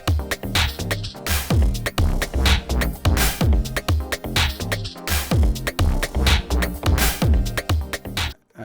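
A short six-track, 16-bar song idea plays back in Logic Pro: a full mix with punchy drums, bass and layered parts, steady loud rhythm throughout, ending abruptly.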